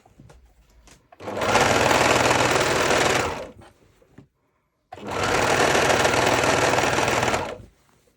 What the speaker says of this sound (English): I'm going to do that on my serger as well